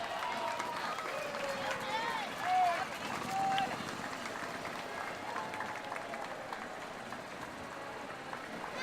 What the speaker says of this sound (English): Give a big round of applause to the Community Services Department Commission.